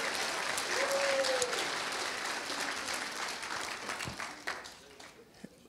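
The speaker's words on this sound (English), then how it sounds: "And give yourselves a round of applause for that." Audience applause at a community town hall meeting, a full round of clapping that gradually thins out and fades, with a brief voice early on.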